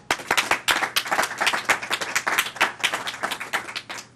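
Audience applauds to welcome author Carl T. Bogus at a book talk, a dense, steady wash of many hands clapping throughout with no voices over it.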